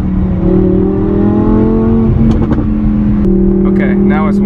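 An Audi R8 tuned past 700 horsepower, with a Fab Speed exhaust and a custom tune, rumbles loudly and close at a steady idle with slight shifts in pitch. Faint voices can be heard under the engine.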